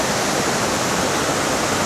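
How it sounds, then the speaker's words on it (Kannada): Mookanamane Abbi waterfall near Sakleshpur roars as a steady, loud, unbroken rush of falling water close by, with no voices heard. "ಮೂಕನಮನೆ ಅಬ್ಬಿ ಜಲಪಾತ ಅಂತ, ಇಲ್ಲ ಸಕಲೇಶ್ಪುರದಲ್ಲೇ"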